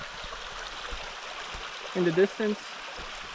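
A river stream rushes steadily through the Zejmarska Roklina gorge in Slovensky Raj, a constant soft wash of water with a person briefly speaking near the end.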